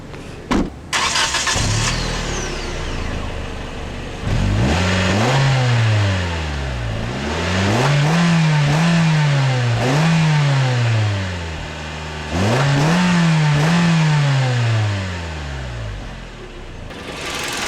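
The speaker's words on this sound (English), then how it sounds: "you'll find Kia's slightly noisy and buzzy 2-liter 4-cylinder engine" A 2011 Kia Soul's 2-liter four-cylinder engine starts, then revs up and down in repeated rising and falling sweeps, close and buzzy, with no talking.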